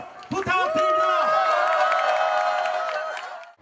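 A street campaign crowd for presidential candidate Ahn Cheol-soo outside Hongdae in Seoul breaks into loud, sustained cheering with scattered claps, voices rising in a long drawn-out shout that fades slightly toward the end.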